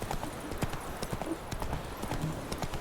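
Roach, the horse in The Witcher 3, galloping with a steady rapid clip-clop of hooves, close and fairly loud, with a brief whinny and faint ambient game sound beneath.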